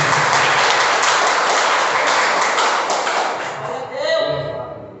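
Congregation in a church clapping hands together in a steady, loud wash of applause, tapering off near the end.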